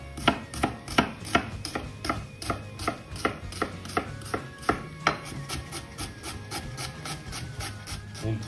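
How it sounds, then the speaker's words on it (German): Kitchen knife finely chopping onion on a cutting board: a fast, steady run of sharp, close taps with a quicker burst early on, no talking. "Zwiebel fein schneiden"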